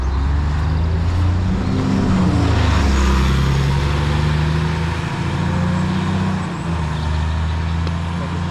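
A large diesel double-decker bus rumbles close by, its engine building and shifting as it pulls away, a steady low drone throughout with no talking.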